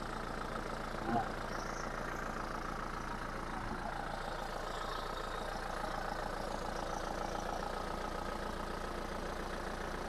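A 2005 Isuzu Panther LV Adventure engine idles steadily in a showroom, a low, even hum running the whole time at moderate distance, with faint voices in the background.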